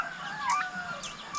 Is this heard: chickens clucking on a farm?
yes